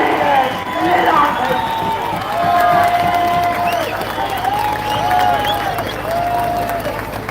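A large outdoor protest crowd in Dublin clapping and cheering, a dense roar of applause with shouts rising and falling, and voices calling out over it.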